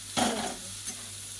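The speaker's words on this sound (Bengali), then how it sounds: "মশলা ওখানে করলা আলু ভাজা হচ্ছে, আর মাছ ভাজা হচ্ছে" Bitter gourd, potato and fish fry in a pan, giving a short burst of sizzling and stirring scrape that fades into a steady soft hiss.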